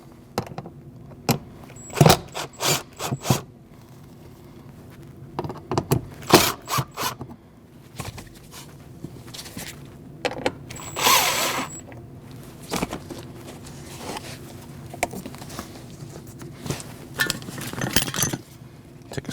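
A screwdriver pries at a floor panel inside a 2014-2023 Jeep Cherokee, giving sharp metallic clicks, scrapes and rattles in irregular clusters, close up with no talk.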